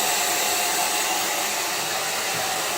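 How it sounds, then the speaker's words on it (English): A hair dryer blows steadily and close, drying a latex prosthetic piece; its broad, even roar holds unbroken with no voices over it. "So to speed things up, just get a hair dryer and just dry it."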